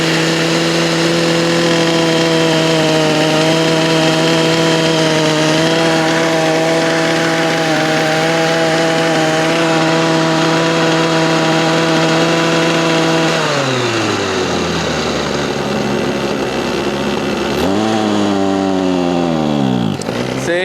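Redmax HTZ2460 hedge trimmer engine held at full throttle, a loud, steady high-pitched drone that drops away abruptly, then briefly revs back up and falls again near the end, with no talk.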